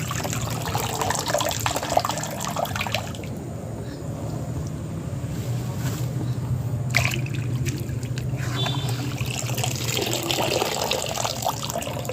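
Water draining from a sack of soaked coir pith, a steady close rushing and trickling flow that continues throughout with slight surges, no speech.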